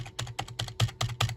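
Fast, irregular clicking of keys on an old Dell computer keyboard, close and fairly quiet, with no talking.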